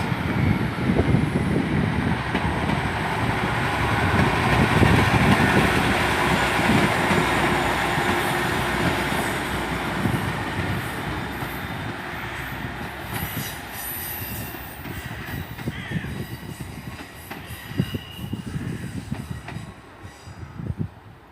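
Train departing Exeter St Davids station bound for Exeter Central, loud rumbling wheels with squealing and rhythmic clacking that slowly fade as it pulls away, with no talk.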